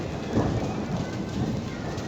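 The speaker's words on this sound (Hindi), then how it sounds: "रात से हो रही है, बस हल्की हल्की हो रही है, बिजली भी चमक रही है और बारिश भी हो रही है" Light rain patters steadily on the ground outdoors under a heavy overcast sky, forming a soft continuous hiss with a faint low rumble of distant thunder.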